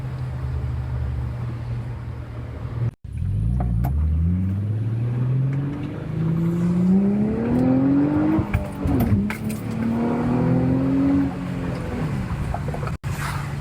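A 2006 Infiniti G35S sedan with a six-speed manual and loud catback exhaust accelerates hard through several gears, its engine note rising in pitch with brief dips at each shift, heard loud from inside the cabin.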